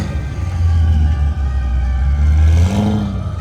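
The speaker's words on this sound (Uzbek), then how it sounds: "Bu yerda mana Lamborghini Urus turibdi, bu performante. Ovoz juda ham baland mashina." A Lamborghini Urus Performante at an outdoor motor festival revs loudly and close by: a deep, continuous engine roar with a brief dip, then climbs again, with no talking.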